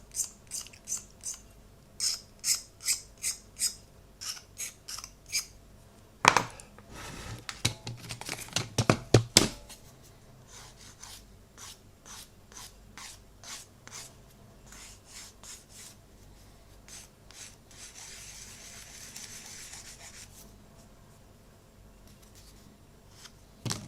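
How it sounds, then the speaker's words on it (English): Small repeated scraping and rasping strokes as flash is cleaned off a part of an Italeri 1/72 XB-70 Valkyrie plastic model kit, rhythmic at first, then a louder burst of handling and softer irregular rubbing, close up. "I shall just scrape off and clear this top bit of flash up here."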